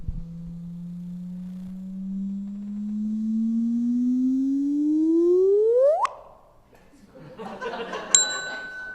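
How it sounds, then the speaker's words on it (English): Sonified gravitational-wave signal from two neutron stars merging: a steady tone rises slowly in pitch, then sweeps up sharply into an abrupt cutoff, followed by a short burst of noise and a bright added ding. "So this is the sound of two neutron stars merging together."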